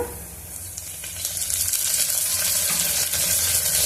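Onions fry in a pan for mutton kheema, giving a loud, continuous sizzle that grows slightly stronger after the first second, with faint stirring scrapes underneath.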